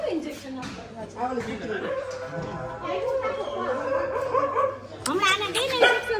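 A dog barks and yips in short bursts, with some whimpering, close by and mixed in with people talking.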